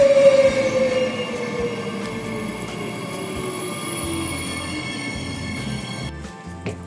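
A train ride heard from inside the carriage: steady rolling rumble with a high wheel squeal that slowly glides downward, continuous and fairly loud throughout, with no one talking.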